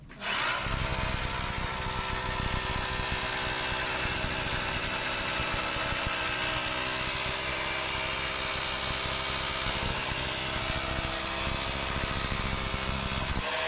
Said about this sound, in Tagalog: Masusubukan natin yung ating bagong barena.